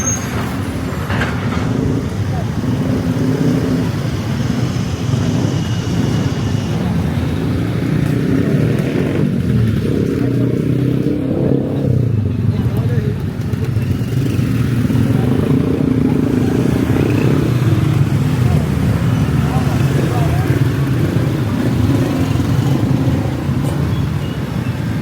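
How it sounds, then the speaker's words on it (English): Street traffic in Angeles City, a continuous close rumble of cars and motorcycles passing, with engine drone and clatter throughout. "Traffic, always here traffic."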